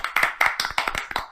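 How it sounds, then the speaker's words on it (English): A few hands clap in a quick, uneven series of sharp close claps, like a small sarcastic round of applause, with no talk. "I think I need fucking commendation and a round of applause for not buying that fucking game"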